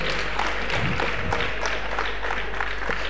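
An audience at a gathering in the Pt. Todarmal Smarak Bhavan hall claps steadily, a continuous patter of many hands at moderate loudness over a constant low electrical hum.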